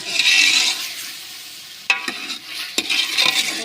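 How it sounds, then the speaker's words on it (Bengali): Vegetables frying in oil in a pan on a stove, a continuous close sizzle with a few sharp clinks of stirring partway through. "এই যে সবজিটা এখন ফ্রাই করা হচ্ছে তেল তেল দিয়ে আমরা ফ্রাই করে নিচ্ছে সুন্দর করে"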